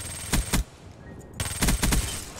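Heavy-recoil automatic gunfire in Black Ops 3 Search and Destroy, two loud bursts of rapid shots separated by a brief pause, close and punchy with game ambience between.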